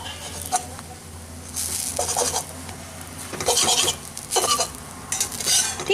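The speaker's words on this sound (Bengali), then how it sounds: "এখন আঁচটাকে কিন্তু আমি একটু কমিয়ে রেখে এগুলোকে ভেজে নিচ্ছি" Omelettes frying on low heat in a pan, a soft continuous sizzle broken by bursts of spatula scraping and clinking against the pan, heard up close without speech.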